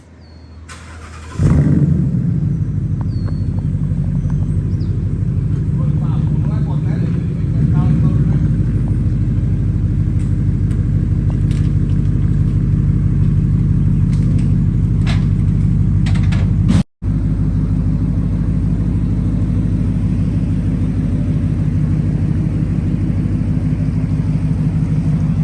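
A car fitted with an SR Performance axle-back exhaust at a muffler shop starts up and settles into a steady, deep exhaust rumble, close and loud, with one brief cut partway through.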